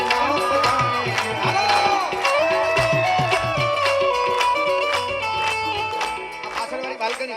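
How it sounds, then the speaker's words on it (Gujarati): An audience at a Gujarati dayro folk gathering for a temple consecration festival claps in steady rhythm alongside loud singing and instruments, the sharp claps repeating evenly throughout. "બે હાથ ઊંચા કરીને ચકાચક તાળીઓ પાડો"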